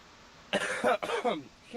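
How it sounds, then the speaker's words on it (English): A couple of short, rough coughs close by, separated by a brief pause, over a faint background hiss. "He's coughing."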